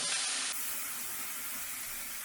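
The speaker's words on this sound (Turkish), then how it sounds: "Zaten tava sıcak olduğu için direkt kaynadı." Cream poured into a hot pan for a creamy chicken penne sauce, boiling at once with a steady, close hiss and sizzle that fades slightly once the heat is turned down, with no talking.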